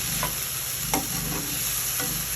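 Beans, peas and tomatoes cooking over medium heat in a pan for semiya upma, a steady low sizzle with a few soft stirring scrapes, close and alone without any voices.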